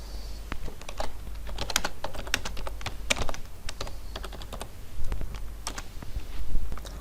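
Someone types a title on a computer keyboard, producing a rapid, uneven run of close key clicks with brief pauses and bursts of faster tapping.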